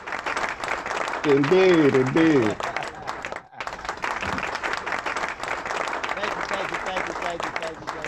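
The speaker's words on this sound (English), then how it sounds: "you gotta play the claps for yourself, bro" A played applause and clapping sound effect runs for several seconds with a brief gap, while voices talk over it.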